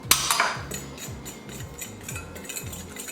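A utensil stirring spices and flour in a bowl, with a sharp clink at the start followed by a steady run of soft, rhythmic scraping strokes close by.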